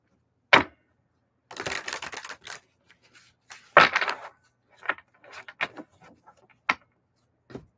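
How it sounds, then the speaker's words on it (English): A deck of playing cards being shuffled by hand, with quick bursts of riffling and tapping separated by short pauses, close and clear. "let me get these cards all shuffled up"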